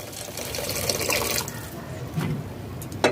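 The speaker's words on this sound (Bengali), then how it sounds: "এখানে আমি গরম জল অ্যাড করে দেব গ্রেভির জন্যে" Hot water pours into a pan of gravy in a kitchen, making a short rushing, splashing gush that fades into a softer trickle near the end.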